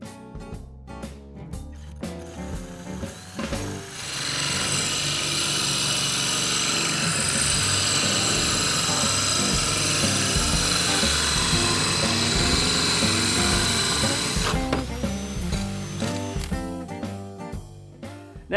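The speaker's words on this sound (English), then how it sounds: "use a carbide grit hole saw, similar to this one, to bore through the tile" A carbide grit hole saw bores through wall tile for a grab bar installation, giving a loud, steady high-pitched grinding whine that runs for about ten seconds, with quieter tool noise before and after.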